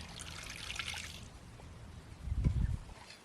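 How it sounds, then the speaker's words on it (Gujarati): Water trickling and pouring into a bowl of gram-flour batter for mango and ridge-gourd pakoras in a village kitchen: a brief, close splashing pour without any talk. "આમાં પાણી નાખી દઈએ."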